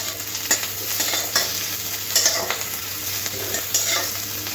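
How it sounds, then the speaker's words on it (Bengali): Grated ginger and onion fry in a pan for a prawn, ridge gourd and potato curry, a steady close sizzle broken by several louder scraping stirs. "আর একটু গ্রেট করা আদাটাও পেঁয়াজের সাথে একটু ভেজে নিতে হবে।"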